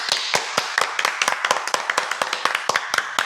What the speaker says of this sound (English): We got claps on the soundboard.